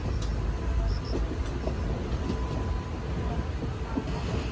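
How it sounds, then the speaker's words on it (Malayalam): A passing goods train makes a loud, continuous low rumble with a broad roar, heard up close and without a break. "ഗുഡ്സ് ട്രെയിനല്ലേ?"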